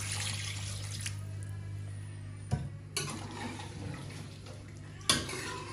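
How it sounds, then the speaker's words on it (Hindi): Water is poured into a pot of goat meat karahi, a steady close splashing rush over a low hum, broken by a few sharp clinks and knocks of the pot. "अभी जो है ना इसमें मैं ऐड कर रही हूँ पानी"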